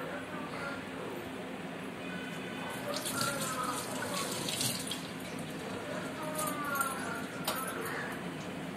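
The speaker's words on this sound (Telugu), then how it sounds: "మా చేతికి కొంచెం పిండి అయిందని హ్యాండ్ వాష్ చేసుకుంటున్నాను ఇక్కడ" Hands rinsed of dosa batter under a running kitchen tap, a steady close stream of water splashing into the sink with shifting gurgles as the hands move, with a voice faintly in the background.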